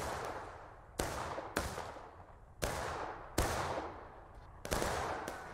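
Musket fire from soldiers in a multiplayer Civil War battle game on an open field, heard as sharp separate shots, about six of them, spaced irregularly, each cracking loudly and then trailing off into a rumbling echo.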